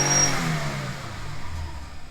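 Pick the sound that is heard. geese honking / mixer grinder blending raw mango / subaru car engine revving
subaru car engine revving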